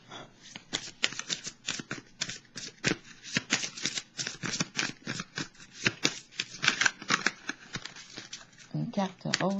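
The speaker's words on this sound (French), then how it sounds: "Je vais piger une carte" Tarot cards being shuffled and drawn up close, with a dense run of rapid, crisp riffling flicks and slaps that rise and fall in bursts throughout.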